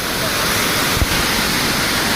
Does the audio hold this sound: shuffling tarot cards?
no